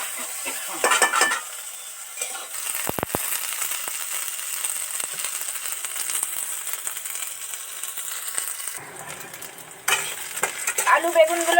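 Potato and eggplant pieces fry steadily in hot oil in a pan, with a continuous close sizzle and repeated scraping stirs and pot clatter throughout; a louder burst of crackling comes near the end.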